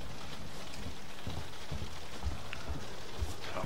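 Steady rain patters across surfaces in the video game Alien Isolation, a continuous soft hiss with occasional low thuds, moderately quiet and with no voices.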